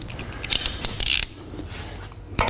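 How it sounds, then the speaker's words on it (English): A socket and ratchet tightening the anode rod on an RV water heater gives short bursts of close mechanical clicking with a brief pause between strokes. "Put our socket and ratchet back on it. And tighten that securely."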